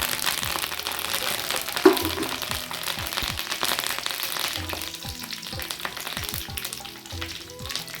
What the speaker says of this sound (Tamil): சோம்பு பொரிட்டு கல்பாசி பட்டையும் சேர்த்துக்கலாம்